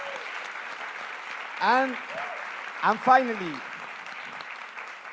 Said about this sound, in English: a tremendous applause to him